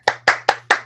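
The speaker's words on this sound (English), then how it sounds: "I think we should all give Brian a round of applause" A few hands clapping in a slow, even rhythm, five close, sharp claps in under a second rather than a full crowd's applause.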